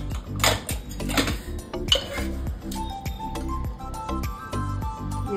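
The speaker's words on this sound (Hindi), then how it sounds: "अब हम कुकर को खोल के देखते हैं" Metal cookware clanks and clinks in a home kitchen as a pressure cooker of arbi (taro root) is handled and opened, with repeated close knocks and rattles of pots and utensils and a few bright ringing pings.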